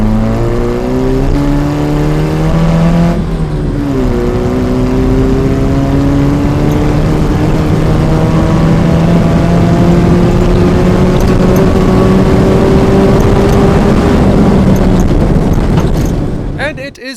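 A Toyota TE71 Corolla drives along with a steady, loud engine drone heard from inside; the pitch climbs, drops briefly at a gear change, then climbs again under continuous road and wind noise.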